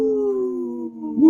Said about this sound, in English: That's a beautiful white wolf there that Lewis has on the screen.